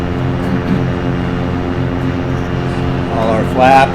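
Engine of a Carenado Cessna 182Q in a flight simulator game during a power-on stall, a steady loud propeller drone with a constant low hum, with a brief voice near the end.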